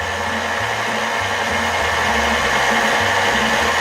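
An electric mixer running on low speed, beating butter and sugar together for decorating buttercream icing: a steady close motor whine with a shifting low churning hum, continuous and loud throughout.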